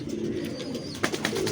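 Pigeons at a breeding setup give low, steady cooing close by, with a few brief sharper sounds near the end and no talk over them.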